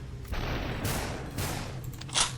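Gunfire bursts from the video game Superhot, several sharp shots layered over a steady rumble, with a louder crack near the end.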